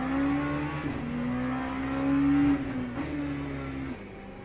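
Race cars in Le Mans Ultimate at Fuji roar continuously, a steady engine tone rising and shifting through gears with brief dips, loud and close, with no talk.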